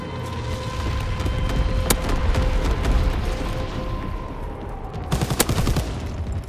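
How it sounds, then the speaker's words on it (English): Flak guns fire in Call of Duty WWII: a loud, continuous barrage of rapid gunfire and booms over a dense battlefield rumble, with sharper cracks standing out near the start and end. "Flak guns firing, clearing the skies."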